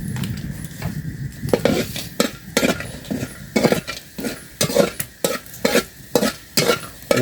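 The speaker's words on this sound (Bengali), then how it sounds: "ভাজা হবে একসঙ্গে রসুনটা লাল হয়ে যাবে" Garlic and asafoetida fry in mahua oil in a pan, with a steady sizzle under regular, rhythmic scraping strokes of a stirring utensil, close and fairly loud, with no voices.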